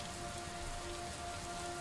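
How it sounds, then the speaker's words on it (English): Steady rain pours down in the video game Superliminal, a constant dense hiss of drops hitting surfaces with no breaks and no talk. "Oh, it's raining."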